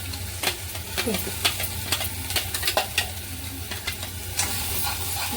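Chicken with ground masala is stirred in a hot oiled pan, a constant sizzle under irregular scraping and knocking strokes of a spoon, close and clear with no talking.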